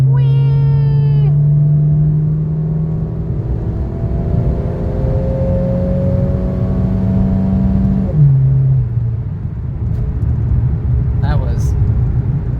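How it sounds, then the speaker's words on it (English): A front-wheel drive car accelerating loudly, its engine tone climbing steadily in pitch before a gear change drops it and it pulls again, heard from inside with a loud, constant roar. "I appreciate front-wheel drive cars."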